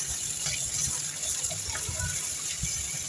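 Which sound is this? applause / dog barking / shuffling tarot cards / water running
water running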